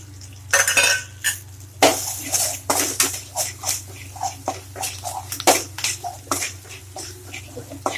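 Salt, turmeric and chili powder get stirred into hot oil in a pan over low heat, a spoon knocking and scraping the metal in irregular bursts beneath a soft sizzle.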